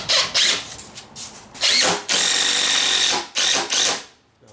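A power drill pre-drills holes and drives screws into plywood for a quarter pipe skate ramp, loud whirring in several bursts of varying length, with one long sustained run in the middle.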